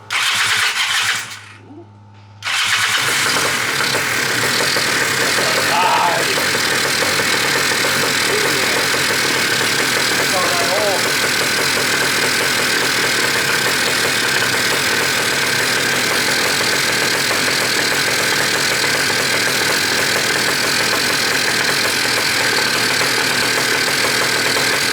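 Polini Thor 303 engine, freshly rebuilt, firing up after a brief starting burst, then settling into a steady, loud, close idle that runs on for over twenty seconds with no talking.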